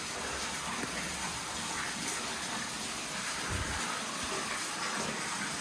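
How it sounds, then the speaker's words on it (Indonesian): Water flowing out of an opening in a slippery cave-like spot near the southern sea coast, a steady rushing wash that stays even and fairly close throughout, with no talk. "Karena ada air yang mengalir dari sana."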